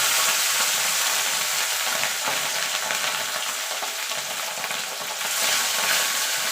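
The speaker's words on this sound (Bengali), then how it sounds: "এবার মাছগুলো ছেড়ে দেবো।" Fish fry in a little salted oil in a karahi, giving a loud, continuous hissing sizzle with faint crackles. The sound stays close, steady and uninterrupted, with no speech.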